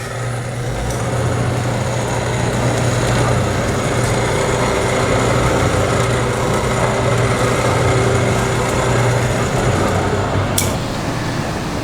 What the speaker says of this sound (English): Here's a oil well pump. I think we can make that one work too.